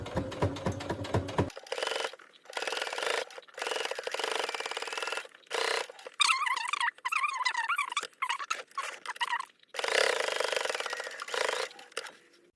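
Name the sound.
sewing machine stitching a zipper on trousers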